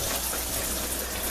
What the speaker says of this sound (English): So if I turn the shower on,